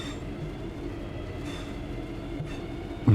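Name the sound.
train moving in the video game Train Sim World 6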